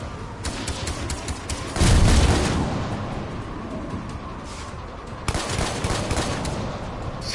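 A sniper rifle fires rapidly in the Mass Effect 3 video game, a dense run of loud gunshots and booms layered over a constant roar of battle, with a heavy burst near the start and a second flurry later.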